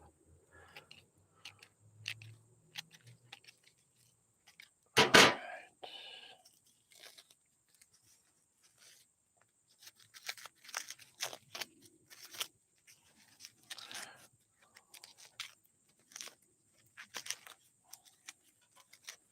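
Scissors snip and crunch through amaryllis foliage on the bulbs, a few soft scattered cuts with one louder crunching snap near the start, close and quiet with small rustles between.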